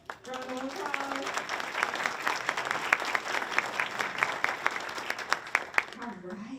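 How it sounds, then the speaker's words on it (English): An audience at a selective college panel for a parent education wellness series gives a steady round of applause that fills the space, dense clapping with a few sharp individual claps, and a voice speaks briefly at the start and end. "Can we give her a small round of applause?"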